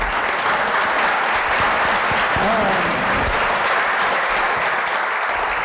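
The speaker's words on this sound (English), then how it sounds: "Let's give our panelists a round of applause" A seated audience at a chamber of commerce panel forum in Oklahoma City breaks into steady, dense applause that thanks the panelists, sustained at an even level for the whole stretch.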